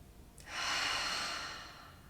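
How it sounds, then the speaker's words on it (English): A single deep breath during a yoga class: a short, sharp nasal inhale followed by a long, soft breathy exhale through the mouth, close and fairly quiet, with no talking. "Just take a nice deep inhale through the nose and exhale from the mouth."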